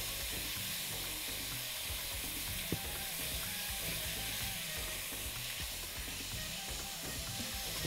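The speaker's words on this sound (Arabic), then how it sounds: "هنبدا نقلب كده بالشكل اللي انتوا شايفينه لحد ما كل اللحمه تفك معايا" About a quarter kilo of minced meat sizzles steadily in a pan while being stirred and broken apart, a dense continuous frying hiss close up with soft scraping underneath and no talk.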